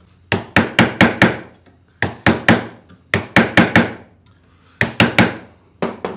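A hammer drives a screw through thin iron sheet while making a rustic iron hinge. Loud, close metallic blows come in quick bursts of three to five strikes, separated by short pauses.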